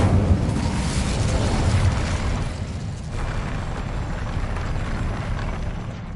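A fire spell cast in Hogwarts Legacy on PS5 gives a loud, continuous roaring whoosh of flame. It stays steady and dense for about six seconds with no break.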